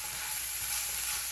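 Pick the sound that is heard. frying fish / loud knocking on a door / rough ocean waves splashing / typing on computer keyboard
frying fish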